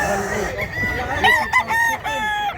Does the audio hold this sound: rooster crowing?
yes